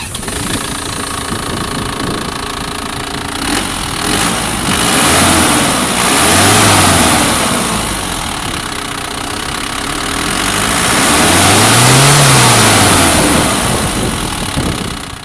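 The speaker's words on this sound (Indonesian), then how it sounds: "Kita pengen coba denger dulu suara diesel legendaris dari sebuah Isuzu Panther, rajanya diesel." Isuzu Panther with a 4JA1 turbo diesel settles into a loud, clattering idle after starting, its rough knock steady throughout with a couple of brief revs swelling and fading, no talking over it.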